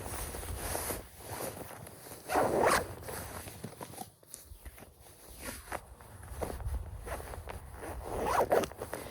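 A zipper runs along the large armpit vent of a 2024 Ortovox 3L Ravine Shell women's jacket, making several close, rasping pulls of varying length across the stretch with brief pauses between them.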